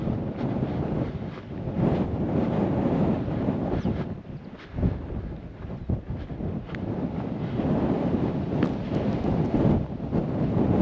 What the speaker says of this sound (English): Very windy as well.